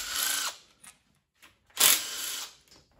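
Power tool backing out side bolts on a 1997 Mustang Cobra engine during a rebuild: two short bursts of whirring drill noise near the start and middle, with quiet gaps and small clicks between.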